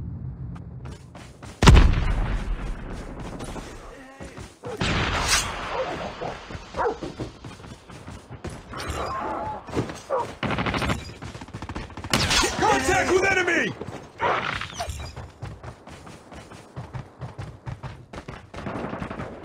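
Gunfire and missile explosions from a Call of Duty ranked match come as loud bursts and booming blasts, with a sharp crack near the start and dense volleys later, and game voices speak between them.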